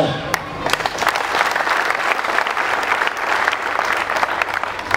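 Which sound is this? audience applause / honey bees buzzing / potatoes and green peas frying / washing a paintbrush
audience applause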